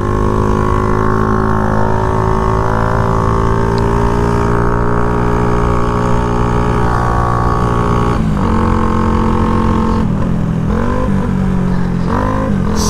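Shineray motorcycle engine with fresh oil, not yet broken in, running on a road: a loud, constant buzzing drone with strong harmonics, pitch shifting slightly as it changes speed, heard close up throughout.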